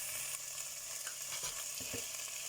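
Cumin seeds frying in hot oil with onions in a pan for a rohu fish curry, a steady soft sizzle throughout with a few brief stirring knocks near the end.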